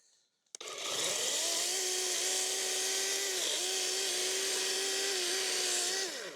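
A battery-powered saw cuts through wood outdoors on an island, one continuous loud whining buzz lasting about five seconds with slight pitch dips as the blade bites, starting abruptly after a click.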